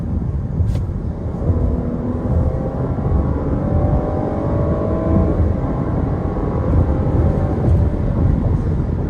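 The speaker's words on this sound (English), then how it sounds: "Engine sounds good. Turns up the wick pretty quick." A 2021 GMC Acadia SLT AWD 3.6 SUV engine revs up hard on kickdown, its pitch climbing steadily as it accelerates, heard from inside under a constant road roar.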